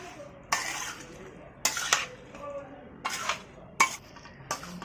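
Pickle of mixed mango, lemon and chili being mixed in a bowl, giving about five separate scraping, clattering bursts of spoon against the dish at a steady pace, close and moderately loud, with no talk.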